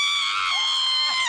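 A person lets out a loud, sustained, high-pitched scream that wavers slightly in pitch and continues without pause.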